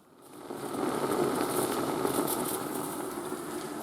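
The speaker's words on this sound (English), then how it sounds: "Bubbling for 2 minutes." Water boils in a pot with loose leaf tea and ginger, a soft, steady bubbling and hiss that swells in over the first half second and then holds level.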